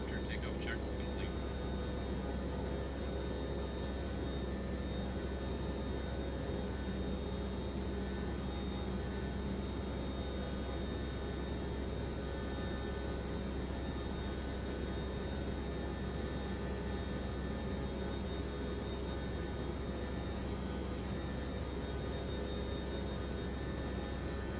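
Steady cockpit drone of Boeing 727 freighter engines in a flight simulator game, a constant even hum and hiss with no change in pitch, a faint click at the start and no talk over it.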